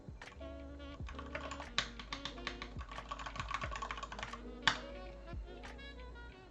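Fingers type quickly and steadily on a BM60 RGB computer keyboard, producing a fairly quiet, continuous run of close key clicks with no voices.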